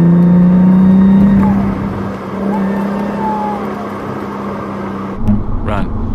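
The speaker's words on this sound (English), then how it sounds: "If the turbo sounds like this," Audi B5 S4 with a blown turbo, engine running loud and close with a strong droning tone that eases slightly after the first seconds, then a brief rise near the end.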